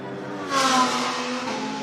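A BMW touring car returning to the track during a race, its engine note swelling briefly as it revs past, loud and close for under two seconds with no talk.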